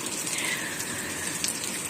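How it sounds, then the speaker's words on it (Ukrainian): Heavy summer rain pours down after a long dry spell, a dense, steady hiss of falling drops and gushing water, close and continuous with no other sounds over it. "вже відколи цей дощ йде, він вже йде отакий сильний"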